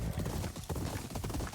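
Horse hooves clip-clopping at a steady trot in the samurai video game Ghost of Yotei, a continuous quiet patter of rhythmic hoofbeats with no talk.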